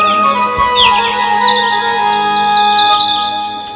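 A small bird chirps in short, rapid, high trills repeated several times over a steady hum of background noise, fairly close and clear.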